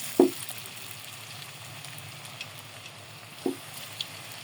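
Potato and cornflour stick rolls frying in oil in a wok give a soft, steady sizzle, fairly quiet, with a few sharper pops and crackles scattered through it.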